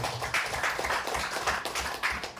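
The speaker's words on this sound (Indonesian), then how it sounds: "Kita beri tepuk tangan." An audience at a teachers' training session claps for a speaker, a steady, dense round of applause that stays fairly loud and continuous for a couple of seconds.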